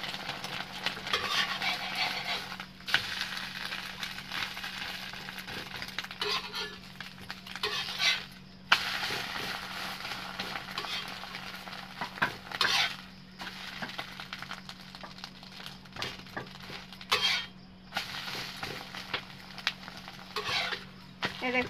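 Egg sizzles softly in a pan for egg rolls while a utensil scrapes and stirs it with irregular clinks, with a steady low hum underneath throughout.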